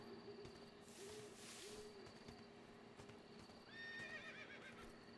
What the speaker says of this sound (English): You hear a horse.